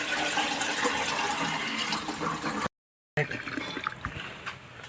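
Small-grain rice is rinsed under running water, a close, continuous splashing and pouring that cuts out briefly and then resumes.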